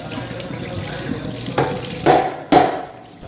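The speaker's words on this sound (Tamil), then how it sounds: "ஸோ ஸ்ட்ரெயினரை கொஞ்சம் கழுவிடலாம்" A strainer being rinsed under a running kitchen tap, steady water flow splashing in a sink with two louder bursts of spray near the end as the strainer is moved under the stream, no talking.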